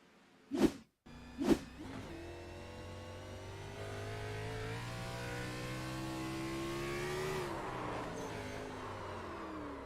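A racing video game's onboard race car engine takes over after two sharp thumps, droning steadily and rising in pitch as it accelerates, then dipping as the driver shifts near the end, close and continuous, no voices.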